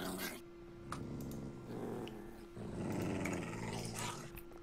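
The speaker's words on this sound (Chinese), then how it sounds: "狗狗还在咬我啊！" A dog growling in the video game Minecraft, a low, rough, rumbling snarl that rises and falls over several seconds, fairly faint, with light background game noise.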